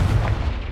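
Confringo blasting spell explosion in Hogwarts Legacy, a short, heavy, booming burst with rumbling low end, loud and alone without speech.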